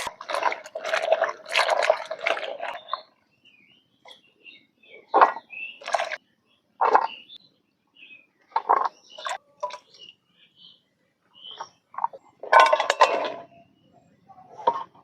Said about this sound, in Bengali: কচুগুনা কুটে নিলাম, এখন আমি পানি দিয়ে ধুয়ে নিমু।